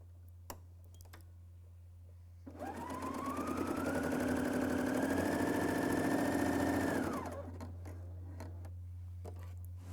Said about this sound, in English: we start test sewing with the defaults